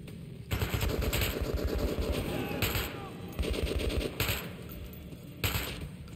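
Bursts of automatic gunfire in Metro 2033, several loud rattling volleys of rapid shots separated by brief gaps, close and harsh.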